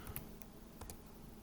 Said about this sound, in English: I'm typing out the address